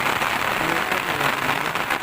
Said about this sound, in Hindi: देखिए कितना जोर से बारिश हो रहा है